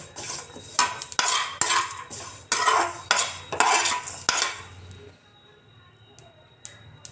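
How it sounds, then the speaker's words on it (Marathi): Sesame seeds and cardamom pods dry roasting in a pan on a gas stove give dense bursts of crackling and scraping, like stirring, for about five seconds, then a near-silent pause with a couple of faint ticks. "असा तडतड आवाज आला की बंद करून टाकायचा गॅस"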